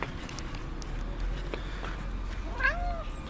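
A cat named Elvis lets out a single short meow near the end, close and moderately loud, after a few scattered thumps and a low background hum.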